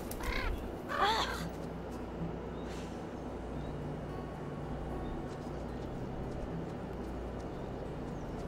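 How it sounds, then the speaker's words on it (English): A crow in the horror video game The Quarry gives two harsh caws at the start, then falls silent over a steady low outdoor ambience. "There's a crow right there."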